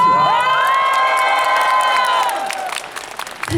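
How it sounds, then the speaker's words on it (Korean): A gymnasium crowd at a trot concert cheers and shouts, with whoops and clapping, loud and close. A sustained tonal squeal runs through the first half, and the noise thins toward the end. "한번 일단 들어보자고요. 박수 소리."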